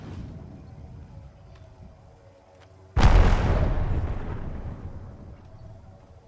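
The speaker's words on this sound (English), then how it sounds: "Throw an Arc Star!" An Arc Star grenade in Apex Legends bursts with a single sudden loud blast midway, its rumbling roar decaying over a few seconds after a quieter stretch of low ambient game noise.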